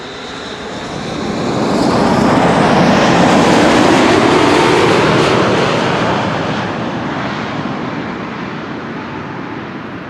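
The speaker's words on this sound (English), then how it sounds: "KLM Flight 749 having returned from Cartagena in Colombia" A KLM airliner on Flight 749 from Cartagena, Colombia, at Amsterdam Schiphol, its broad engine roar swelling to a loud peak midway, then easing off while staying steady and close, with no talk.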